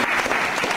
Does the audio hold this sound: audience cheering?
yes